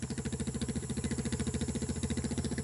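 A vehicle engine runs steadily, its low, rhythmic chugging pulses close and loud with no talk over it.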